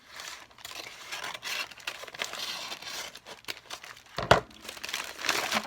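A Tyvek envelope holding a dyed paper package is handled and opened, with close-up crinkling, rustling and tearing throughout and a sharp tearing burst near the end.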